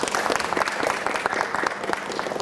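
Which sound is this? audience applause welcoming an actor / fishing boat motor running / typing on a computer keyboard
audience applause welcoming an actor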